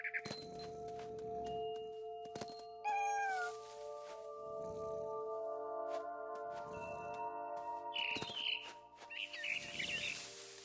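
A cat meows several times in the video game What Remains of Edith Finch, close and clear over sustained musical tones, with brief bird chirps and a rising chime.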